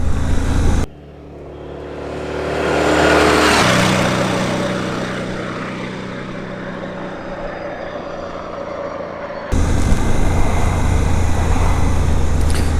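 Suzuki V-Strom 800DE dual-purpose motorcycle engine on a ride, a loud steady drone with a brief dip and a rising surge of revs, then a long even run mixed with wind rush.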